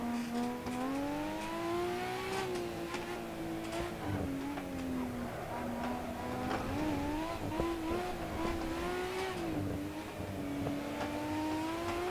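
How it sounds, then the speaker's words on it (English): Race car fitted with a Hayabusa motorcycle engine in the Assetto Corsa racing game, revving high and wavering as the wheels spin, a continuous buzzy engine whine rising and dipping in pitch, with no voices over it. "I'm gonna get wheel spin everywhere"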